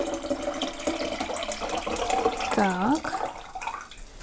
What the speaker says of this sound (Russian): Я сливаю все вот так до остатка.